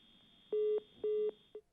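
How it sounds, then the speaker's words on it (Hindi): Phone line cutting out: two steady electronic tone pulses of equal length, separated by a short gap, then a brief click, over faint low background hum. "फोन डिस्कनेक्ट हो गया"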